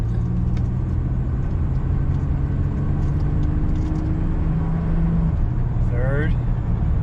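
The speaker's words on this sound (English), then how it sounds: "We'll be able to see our shifts a little bit better." Chevrolet S10 Xtreme pickup truck pulls away with a steady engine rumble, heard from inside the cab under continuous talk, the pitch climbing and dropping as it works through its gear shifts.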